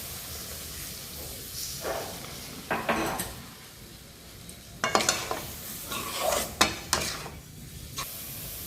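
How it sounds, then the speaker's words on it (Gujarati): Milk is poured over besan and sugar in a pan for modak and stirred in. Close, intermittent bursts of scraping and hissing rise and fall with each stroke. "હવે 1 કપ ભરીને મેં દૂધ લીધું છે, એ આપણે હવે આમાં નાખી દઈશું"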